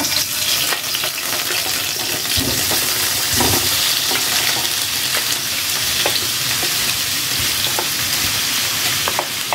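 Slices of chicken Tuscan sausage fry in hot oil in a pan for a quick pasta lunch, giving a loud, steady sizzle with crackles and a few scraping stirs, no talk.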